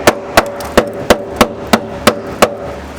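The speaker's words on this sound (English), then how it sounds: "As soon as you hit it these pieces, it's just chipping right." Rotted metal pieces of a van being struck at a steady pace, about nine loud, sharp hammer blows in three seconds, close and ringing slightly as bits chip away.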